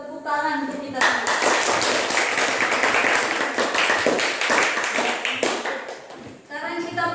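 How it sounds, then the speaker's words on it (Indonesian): A classroom of students applauds together during a mathematics lesson on number patterns, a dense burst of clapping lasting several seconds, with children's voices before and after. "Tepuk tangan untuk kita semua."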